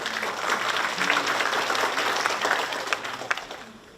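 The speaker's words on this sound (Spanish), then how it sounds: "Recibámoslos con un caluroso aplauso." A seated audience at a water day lecture series claps warmly to welcome a speaker, a dense, steady wash of applause lasting the whole stretch and easing slightly toward the end.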